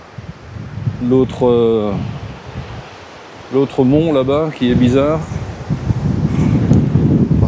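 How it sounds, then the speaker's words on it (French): Strong wind blows outdoors near a campervan in Saint-Martin-de-Crau, a steady loud roar buffeting the microphone throughout, rising toward the end, while someone speaks French over it. "putain, c'est désagréable ce vent là."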